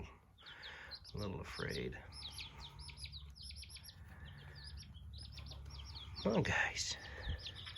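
Barred Rock baby chicks peep in rapid, high bursts throughout, close by, with someone speaking softly over them and a brief louder voice near the end.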